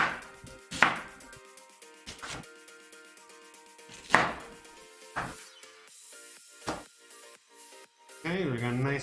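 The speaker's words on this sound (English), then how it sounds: "So we're just, chopping like a nice little medium dice" A knife chops an onion into medium dice on a board, with several sharp, separate knocks spread across the clip over a quiet, tonal background, then a voice starts talking at the end.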